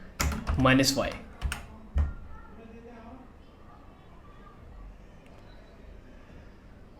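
A burst of quick computer keyboard keystrokes enters a yarn init command, sharp clicks clustered over the first two seconds, followed by quiet room tone with faint background noise.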